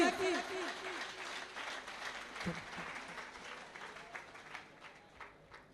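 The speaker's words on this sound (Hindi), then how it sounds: "भरपूर तालियां" Audience applause at an Urdu poetry gathering (mushaira) in Muzaffargarh, a steady patter of clapping that fades gradually over several seconds, with some speech mixed in at the start.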